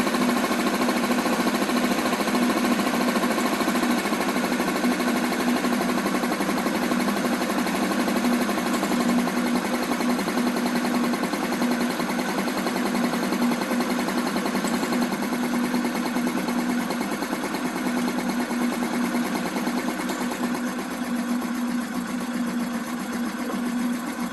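A moped engine idles steadily while its mixture screw is adjusted, a continuous buzzing drone with a strong, unwavering tone that runs alone and evenly loud from start to finish.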